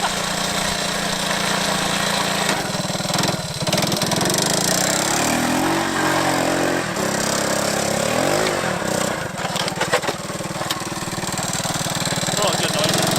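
A worn-out 125 three-wheeler engine running steadily with a rough, rattling mid-pitched drone, rising and falling slightly as the throttle shifts, close and loud, with a voice briefly over it.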